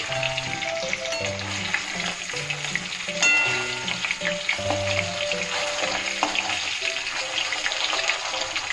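Katla fish frying in hot oil for a fish curry gives a steady sizzle that runs throughout, partly under a melodic background tune, with a brief louder burst near the middle.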